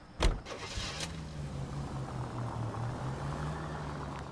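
A car engine in the video game LA Noire starts with a sharp thump, then settles into a low, steady idle hum that runs throughout at moderate volume.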